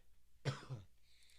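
A single short cough, close and fairly sharp, followed by quiet background.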